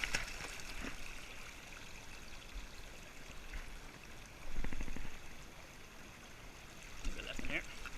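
River water rinsing over a gold sluice dream mat, a steady close rushing and trickling wash with a few louder splashing surges.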